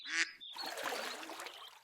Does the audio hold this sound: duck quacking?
yes